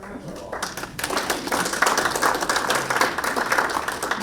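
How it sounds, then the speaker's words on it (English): A round of applause from an audience at a forum event, clapping building after a short start and holding steady at a moderate, fairly close level with some crowd murmur. "let's give her a round of applause"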